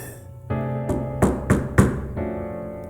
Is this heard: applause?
no